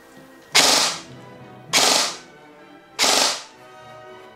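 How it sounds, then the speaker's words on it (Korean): G&G SR15 E3 MOD2 electric airsoft rifle with an electronic trigger fires three quick, loud bursts in succession, each a rapid mechanical clatter that blurs together, set to five-round burst, with short quiet gaps between. "5점사가 나옵니다."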